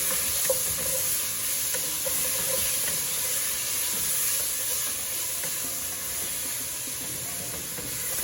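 Garlic sizzling in a hot pan as it is stirred in for a Mexican carne guisada meat stew, a loud, constant frying hiss with faint scraping of the spoon, no talking.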